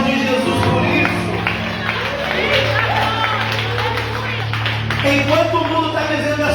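A church congregation at an evening healing service claps and cheers together, a loud sustained burst of applause with whoops and voices running through it.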